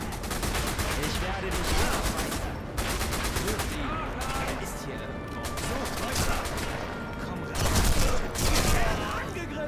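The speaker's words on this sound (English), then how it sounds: "Keep shooting them. Just keep shooting them." Bursts of gunfire from the Sniper Elite V2 Remastered video game crackle loudly in rapid volleys and fusillades, with brief pauses between clusters of shots and a voice talking over them.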